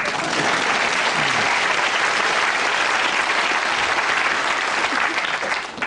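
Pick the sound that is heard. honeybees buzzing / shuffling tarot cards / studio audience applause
studio audience applause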